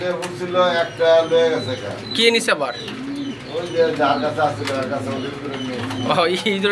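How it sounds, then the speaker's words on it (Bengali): White Bombay pigeons coo repeatedly in soft, throaty bursts close by, while people talk over them. "আমরা এখানে দেখতে পাচ্ছি আরেক জোড়া কবুতর আর এটি হচ্ছে হোয়াইট বোম্বাই"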